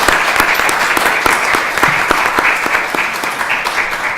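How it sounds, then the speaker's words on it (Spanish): Loud, dense applause from a seminar audience fills the room continuously, with individual sharp claps standing out against a steady wash of clapping. "Les pido un fuerte aplauso."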